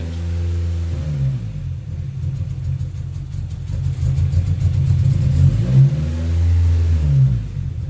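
Close, loud engine note from a 2019 Camaro SS V8 running with the secondary cat removed, idling with a rough burble before one strong rev near the end.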